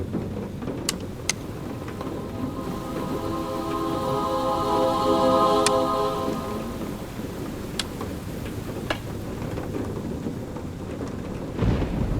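Rain pours steadily through a thunderstorm in the video game A Fisherman's Tale, with a long rolling thunder rumble swelling in the middle and a few sharp cracks, no voices over it.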